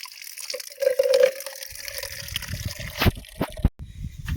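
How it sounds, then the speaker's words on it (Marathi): Water is poured into a clay pot in a farm setting, with a brief trickle followed by splashing and a few sharp drips and knocks, close and fairly clear. "त्या गाडग्याच्या याला मस्तपैकी आपण पाणी टाकूया"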